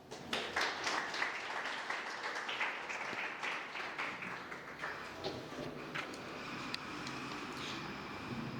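Audience applause at a grand opening event: a sustained crowd of claps, loud at first and gradually thinning and fading, with no voices over it.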